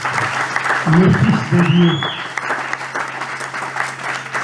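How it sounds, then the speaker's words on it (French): Church congregation applauding at a French-language Christian service, dense clapping throughout, loud and close, with a preacher's voice speaking over it. "Applaudissez pour Christ."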